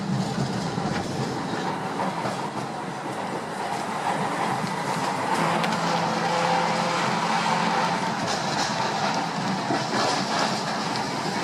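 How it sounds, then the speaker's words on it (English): An old wooden trolley with iron wheels riding through Tampa, a loud continuous rumble and rattle of the car on its rails heard from inside, with no talk. "this is the old school wood trolley. It's got the old turn wheels."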